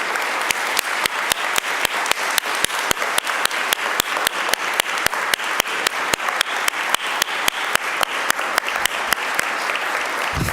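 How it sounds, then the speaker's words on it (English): An audience at an innovation awards ceremony applauds its award winners with a steady, dense round of clapping. The applause runs loud and unbroken for about ten seconds, with no voices over it. "Can I please have everyone in this room do one more round of applause for all of our outstanding Innovation Award winners?"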